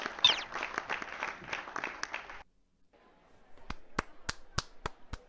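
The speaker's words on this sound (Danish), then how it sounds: "Den her måde, man klapper på." A crowd cheers and applauds for a couple of seconds, then after a short pause a single pair of hands claps six sharp, evenly spaced times, close and distinct.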